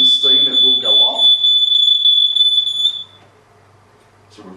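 A smoke detector engulfed in steam mist shrills with a loud, steady high-pitched tone for about three seconds, then cuts off; a person talks over the start of the alarm.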